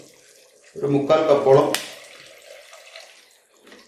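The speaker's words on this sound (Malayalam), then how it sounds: "ഇതിലേക്ക് നമ്മുടെ വിനെഗർ ആഡ് ചെയ്യുവാണ്." Vinegar poured into a pan for pickling Indian gooseberries: a short liquid splash and gurgle of about a second, close and fairly loud, then quiet kitchen sounds while a voice speaks.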